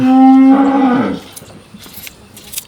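A large dairy cow on a farm gives one loud, close, drawn-out moo that falls off after about a second, followed by faint rustling.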